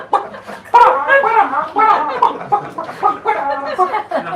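A grown man imitates a chicken with his voice, producing a rapid run of clucking, bawking vocal sounds in close, loud bursts.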